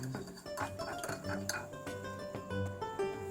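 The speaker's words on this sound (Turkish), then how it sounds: "Ve şöyle minik bir çırpıcıyla hemen ben şöyle bir karıştıracağım." A small whisk stirs a mixture in a pot of Turkish stuffed eggplant sauce, with rhythmic metallic clinks and scrapes against the vessel repeating steadily and fairly close.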